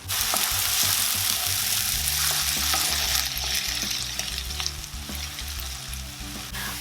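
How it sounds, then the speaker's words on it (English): Onions and chopped garlic fry in a pan for an eggplant dip, a dense, loud sizzle up close with occasional stirring scrapes, easing slightly toward the end, no one talking. "While the onions are cooking, we're adding the chopped garlic."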